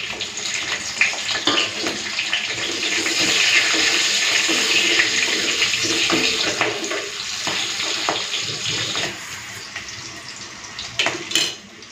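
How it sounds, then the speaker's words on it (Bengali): Water poured into a hot pan of mustard-poppy paste with nigella seeds and green chillies, a steady rushing splash that swells in the middle and tapers off, with a few clinks near the end. "আর একটুখানি জল দিলাম"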